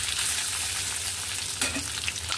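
Shrimp frying in oil in a kadai give a steady, close hiss of sizzling that runs unbroken throughout, with a brief clatter of stirring near the end.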